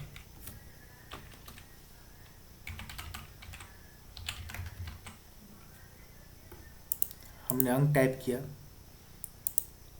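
Numbers are typed on a computer keyboard in short bursts of close clicks, with a louder, denser flurry of keystrokes near the end and quieter taps between.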